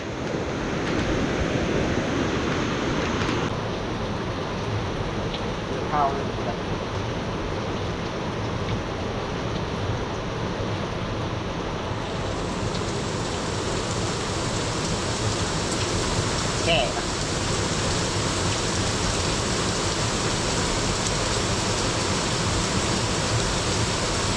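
Heavy rain pours steadily and loudly for the whole stretch, a dense, close hiss that swamps everything, with faint voices now and then underneath.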